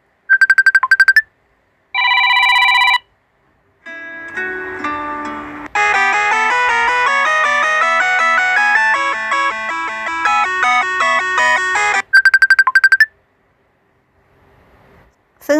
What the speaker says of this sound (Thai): ถ้าเราต้องการที่จะรู้ว่ามีเสียงอะไรมั่งเราแค่แตะเข้าไปที่เสียงนั้นนะคะ